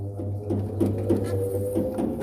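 A top-loader washing machine converted to a spin-only dryer runs with a steady low motor hum and a quick, regular rattling patter over it, close and even, with no talk.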